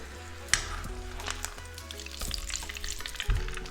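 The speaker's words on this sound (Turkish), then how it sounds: "Ve devamını kızartmaya devam edelim." Steady sizzling of vegetable and chicken spring rolls frying in hot oil, with occasional pops and clinks of a utensil stirring, no voices.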